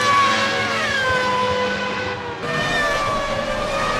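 An F1 car engine at the Nürburgring 24 track in Assetto Corsa Evo whines at high revs with rising and falling pitch sweeps, steady and loud, with no talking.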